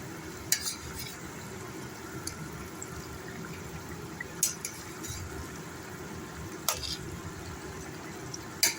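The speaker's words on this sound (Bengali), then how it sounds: "এবার আমি মাছ দিয়ে দিচ্ছি ঝোলের মধ্যে" Fried small carp pieces going into a simmering fish curry with eggplant and lentil dumplings, a soft low bubbling under faint sizzle, with a few sharp clinks of a utensil against the pan, quiet and close.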